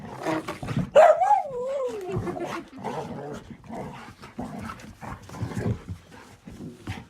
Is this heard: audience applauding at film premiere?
no